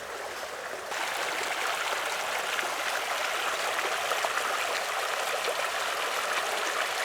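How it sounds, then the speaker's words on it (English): Iron mineral spring water flowing steadily beside a hiking trail, a constant close babble and trickle that swells after the first second and continues evenly without talk. "There's an iron mineral spring right there."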